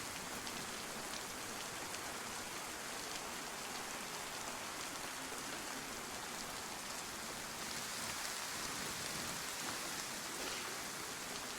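Steady, even rain hiss from a video game, dense and constant like heavy rainfall on surfaces, continuing without pause at a moderate distance and with no talk over it.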